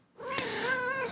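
A domestic mother cat gives a single drawn-out, wavering meow, close and fairly quiet, with no talking over it.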